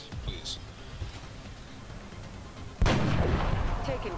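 A headshot gunshot in the game XCOM Enemy Unknown fires as a single loud crack partway through, followed by a sustained burst of noise, after a quieter stretch with a voice murmuring.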